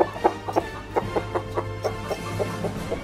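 A chicken clucks in a rhythmic series of short, close calls, roughly a dozen evenly spaced clucks over a low steady hum, with no talking.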